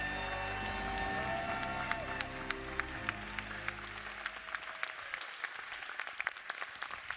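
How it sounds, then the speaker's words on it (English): Applause from a large ceremony crowd honoring Texas MICHELIN Guide restaurants: dense clapping over fading stage music, thinning into scattered individual claps toward the end. "Let's give them a huge round of applause"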